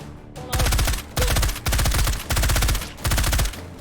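Bursts of rapid automatic gunfire from a 300 Blackout rifle in the VR shooter H3VR, five or six loud, close sustained volleys separated by brief pauses.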